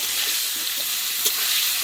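Potatoes frying in oil with cumin seeds, salt and turmeric, a close, even crackling sizzle, bright and continuous, with a few soft stirring knocks.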